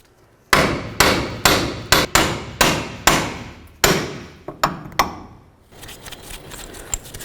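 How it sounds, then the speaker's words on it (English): A hammer pounds the steering knuckle of a 1998-2011 Ford Ranger to free a rusted hub bearing, with about a dozen loud, ringing metal blows in an uneven rhythm, followed by quieter clinks and rattling. "take my hammer and come along one of these ears. I'm going to give it a couple loving bonks this way"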